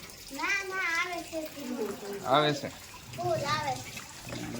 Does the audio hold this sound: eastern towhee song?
no